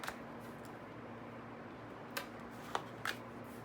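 An oracle card deck being drawn and shuffled by hand, soft papery handling close by and quiet, with a few light card snaps and flicks near the end.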